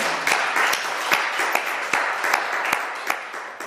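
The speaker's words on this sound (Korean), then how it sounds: "그리고 제가 박수 한번 드리겠습니다." A church congregation claps during a sermon, a rhythmic round of fairly even beats under a softer wash of applause, moderately loud and fairly close.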